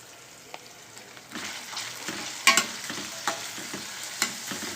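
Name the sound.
frying with salt and turmeric in pan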